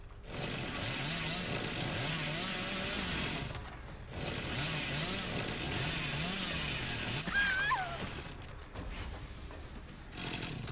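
Billy's chainsaw in Dead by Daylight buzzes continuously with rhythmic revving swells, briefly cutting out before resuming, accompanied at one point by a sharp high screech.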